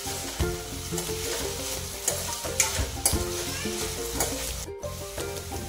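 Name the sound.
potatoes being stirred and cooked in a pan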